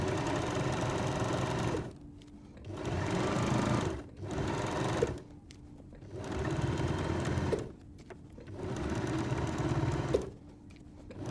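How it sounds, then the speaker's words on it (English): A sewing machine top stitches a fabric coat hanger cover in four loud, steady whirring runs separated by short pauses, close by with no talking. "now I'm just going to top stitch it"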